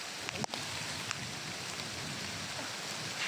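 Constant rainfall patters down in a uniform hiss, punctuated early by a sharp knock or clatter, then continuing unbroken and moderately quiet.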